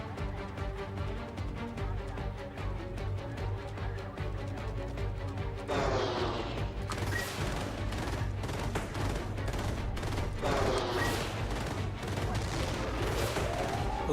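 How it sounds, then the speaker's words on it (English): Missiles fired in the video game Xenonauts 2 set off a continuous roar of blasts and rumbling explosions that swells louder partway through, a dense, booming barrage with no break. "we're gonna fire the missiles right into its gut."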